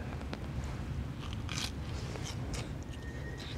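A crunchy bite into a hot fried fish finger dipped in egg and aioli at a windy coastal campsite, a few crisp crackling crunches over steady low wind rumble.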